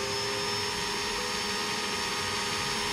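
A power drill whirs steadily while boring into a light-up miniature build, a constant high mechanical whine held close up for a few seconds without pause.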